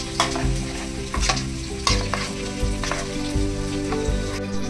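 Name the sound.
fried cauliflower being stirred into the spice mixture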